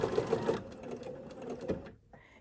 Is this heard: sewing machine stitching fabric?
yes